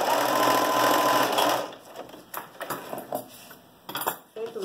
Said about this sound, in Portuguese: Dá um retrocesso na maquinha, tá?